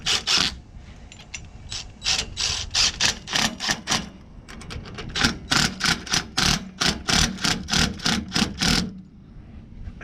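A hand ratchet snugs bolts on a coil spring spacer for a Ford Expedition 4x4 rear suspension lift, giving fast bursts of close, sharp clicking with short pauses between strokes and no talk.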